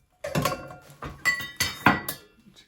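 A heavy new metal wok-style frying pot handled with utensils, giving a run of loud, close metallic clanks and clinks in uneven bursts with ringing overtones, no voices.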